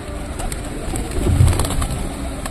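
Pigeons cooing nearby, soft low repeated coos rising in the middle of the clip over light ambient background noise.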